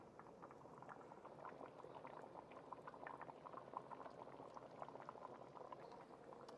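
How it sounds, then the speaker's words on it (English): Steady bubbling and crackling sizzle from a pot of saffron rice cooking in ghee to a crispy bottom, continuous and moderately quiet, with small pops scattered throughout. "Now it's sizzling."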